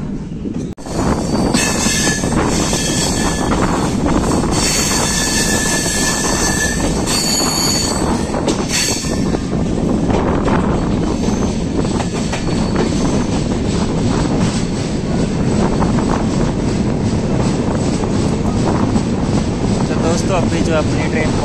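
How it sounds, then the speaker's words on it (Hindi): The Una Janshatabdi Express rumbles steadily into Chandigarh railway station with metallic wheel squeals and clatter, loud and continuous, with some background talk. "जो अपनी ट्रेन पहुंच रही है चंडीगढ़ रेलवे स्टेशन पर"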